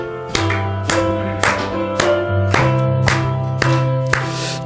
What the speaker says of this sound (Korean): 우리 박수 치면서 한번 부릅시다